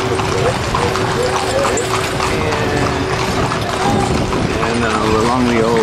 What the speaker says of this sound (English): we're on a horse ride right now